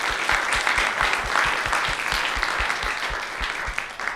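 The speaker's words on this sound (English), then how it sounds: "let's have one more round of applause" Audience applause after a talk at a programming conference session, steady dense clapping throughout with no voices over it.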